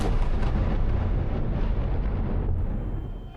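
Iranian ballistic missiles and Israeli air defense interceptors explode overhead in the night sky, one loud, deep, rumbling boom after another that rolls on and slowly fades, with no voices.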